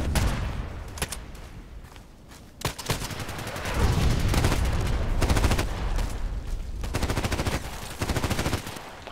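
Repeated bursts of HK 417D rifle fire in a shooter video game, loud rapid shots mixed with separate single cracks and continuing rumbling gunfire throughout.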